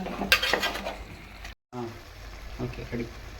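A ladle stirs pieces of fish in a pan for an old-style fish curry. A soft sizzle and scraping fill the first half, a brief dropout follows, then quieter stirring returns under a low voice.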